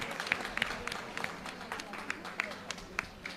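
Scattered audience clapping at a devotional gathering, sparse and uneven individual claps rather than a full ovation, fairly faint.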